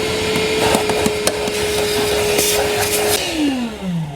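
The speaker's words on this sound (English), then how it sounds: "let me grab my shop vac real quick" Shop vac roars loudly and continuously up close while vacuuming the floor of a Toyota RAV4, with bits of debris rattling through the nozzle before the motor winds down near the end.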